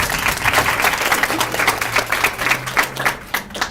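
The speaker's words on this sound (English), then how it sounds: "Give them a round of applause." Audience applause at a youth council graduation ceremony, a dense sustained wash of many hands clapping throughout, with faint low tonal hum beneath.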